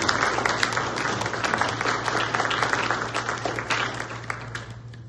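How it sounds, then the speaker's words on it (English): An audience gives a round of applause after a presentation, many hands clapping at a moderate distance over a low hum, the clapping thinning and fading toward the end. "Let's have a round of applause."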